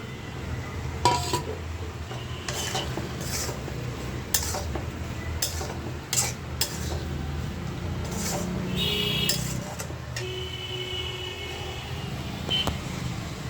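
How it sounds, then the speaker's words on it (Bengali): Potatoes and soya chunks go into spices already cooked down in oil in a pan, with scattered clinks and scraping of a utensil against the pan over a steady background hum. "এখন আমি যে আলু আর সয়াবিনটা দিয়ে দিই।"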